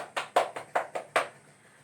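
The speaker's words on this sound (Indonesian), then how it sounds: "Tepuk tangan." A classroom group claps in a loose burst of about six sharp claps, fairly close and moderately loud, ending after about a second and a half with no talk over it.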